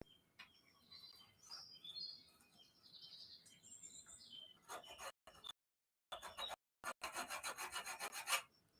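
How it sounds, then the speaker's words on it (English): A hacksaw rasps across a metal workpiece in a blacksmith shop, marking a cut with a run of quick, loud back-and-forth strokes near the end, after quieter scraping and handling noises. "I'm now going to mark with the hacksaw where I would like to"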